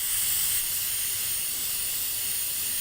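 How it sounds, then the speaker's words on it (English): A continuous, loud hissing spray of rubber sealant from an aerosol can into a strainer, steady and bright throughout with no pauses. "I'm going to spray it inside this strainer."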